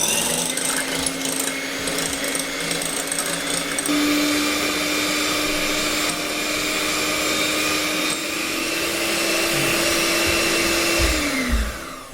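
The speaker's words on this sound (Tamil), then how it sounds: "இன்றைக்கி நான் ஹேண்ட் மிக்சர் யூஸ் பண்ண போகிறேன்." An electric hand mixer beats chocolate sponge cake batter with a loud, steady motor whine held for about twelve seconds, shifting slightly in pitch midway and winding down at the end.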